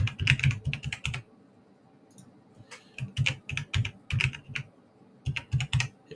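Someone types on a computer keyboard to fill in an online form, three bursts of quick, close key clicks separated by short pauses, with no voices.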